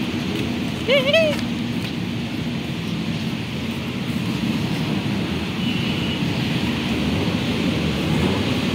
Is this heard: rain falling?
yes